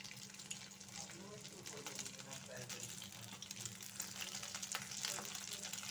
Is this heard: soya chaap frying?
yes